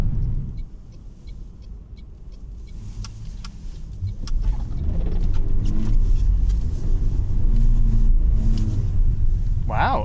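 A Toyota Prius AWD is pushed hard into a drifting turn, its low rumbling drive noise swelling in loudness with tire and road roar and a few sharp clicks, without clear speech.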